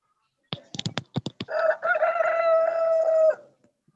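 A rooster crows loudly and close, a drawn-out cock-a-doodle-doo preceded by a quick series of sharp clucks, coming through a participant's line on an online call.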